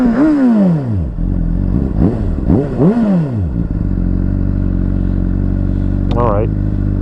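A 2011 Honda CBR600RR with an aftermarket exhaust rides past on a wet road, giving several loud rising and falling engine sweeps as it passes, then a steady idle rumble close by.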